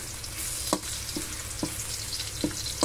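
Garlic fries in a pan with a close, steady sizzle, punctuated by five or six soft scraping strokes as it is stirred at roughly even intervals.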